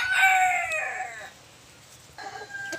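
A labuyo junglefowl rooster crows loudly and close by, one drawn-out call trailing off, followed after a brief pause by a shorter burst of calling.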